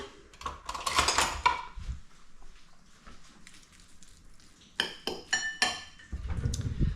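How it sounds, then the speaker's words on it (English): Metal cutlery clinks and rattles in bursts, with a clattering jangle early on and a few sharper chinks later, close at hand. "So let's get some cutlery."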